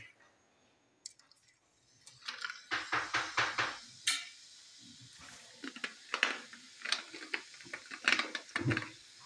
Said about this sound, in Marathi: आता आपण ह्याच्यावर स्प्राईट टाकूया.